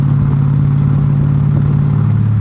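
A 2021 Dodge Durango SRT Hellcat, an all-wheel-drive SUV, hums along with a steady, loud low engine drone and road noise from inside the cabin, without a break in the sound.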